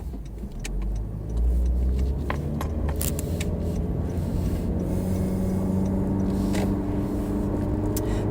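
A car passes by with a steady low engine and road rumble, close and fairly loud throughout, with occasional sharp clinks and rattles on top and no talking.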